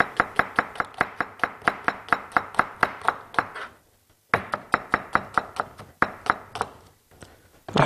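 A knife chops onion, pepper and fish on a cutting board in quick, evenly spaced close taps, pausing briefly midway before the rhythmic chopping resumes.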